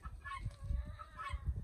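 An angry Muscovy duck makes a few hoarse, faint honking calls in short bursts, fairly quiet against low background rumble.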